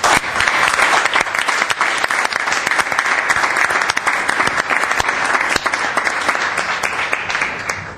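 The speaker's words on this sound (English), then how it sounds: "Round of applause." A loud, close round of applause from attendees at a Glendale city council meeting after a vote, with dense continuous clapping that stays strong for the full stretch.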